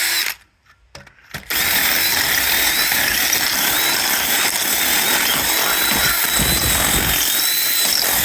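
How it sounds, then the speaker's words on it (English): A loud, steady power drill whines continuously for several seconds after a brief quiet pause, grinding into a vintage motorcycle's metal exhaust. "I'm just going to drill a little bit in there."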